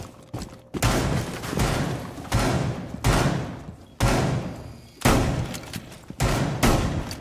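Heavy shotgun blasts in Rainbow Six Siege, roughly six booming shots spaced about a second apart, each with a sharp attack and long decaying tail, loud and close with no talk.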